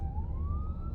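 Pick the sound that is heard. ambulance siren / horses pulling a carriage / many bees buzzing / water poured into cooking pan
ambulance siren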